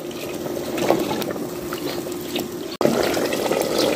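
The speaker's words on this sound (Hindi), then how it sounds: "तो अभी मैं आलू गलाने के लिए थोड़ा सा डाल देती हूँ पानी" Water pours steadily into a cooking pot of browned meat and potatoes for degi aloo gosht, a continuous close trickle and splash with a brief break before it resumes.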